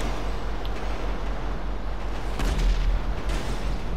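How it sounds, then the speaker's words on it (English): An RPG rocket launcher fires in GTA 5, a booming blast that rises out of a steady rumbling background and is followed by a second, smaller burst. "Well, let's RPG it off."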